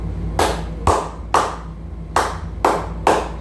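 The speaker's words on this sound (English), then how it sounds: "Give yourselves an amazing clap" Six sharp, evenly spaced hand claps ring out one after another in a classroom as students applaud themselves, each crisp and close with a short decay and no talking.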